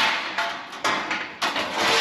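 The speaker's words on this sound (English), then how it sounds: "Once I hammer form all this and get all these little bumps out" Sheet metal for a Ford Transit inside repair panel rings under a hammer as it is formed, with several sharp metallic strikes spaced roughly half a second apart, close and loud, each fading into a brief ring.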